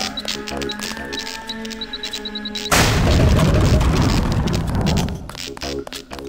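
A LAM explosive detonates to clear a cave-in in the Deus Ex video game, giving a sudden loud boom with a long rumbling roar and debris wash that fades over a couple of seconds, after quieter ambient game tones.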